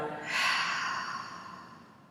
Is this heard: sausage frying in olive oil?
no